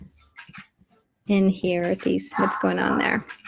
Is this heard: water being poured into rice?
no